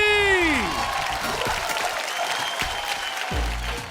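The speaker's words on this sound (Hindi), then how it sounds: "जोरदार तालियां मेहरुद्दीन के लिए" A crowd at a singing talent show claps loudly in a sustained burst, with a fading musical tone at the start and a low thud toward the end under the applause.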